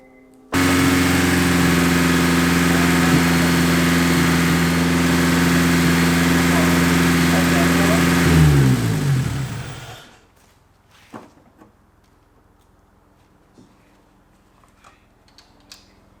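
A Honda S2000 (AP1) engine with a new KOYORAD radiator fires up and settles into a steady, loud idle with harmonic hum for about eight seconds, then winds down and stops, leaving faint clicks and rustles.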